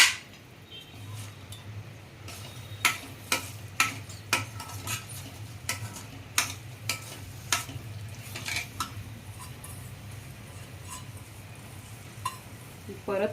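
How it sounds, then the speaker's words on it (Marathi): Boiled moth beans being sautéed in masala for Kolhapuri misal, with a steady low sizzle and a run of sharp spoon clicks and scrapes against the pan, fairly close and with no talking. "मटकी मी एक तीन ते चार मिनटं अशी थोडीशी पाण्यात उकळून घेतली थोडंसं मीठ घातलं होतं यात आता आपण ही यात परतून घेऊया"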